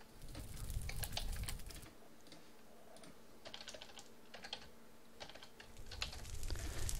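Fast typing on a computer keyboard, close and fairly quiet, with bursts of rapid key clicks separated by short pauses and a low background hum.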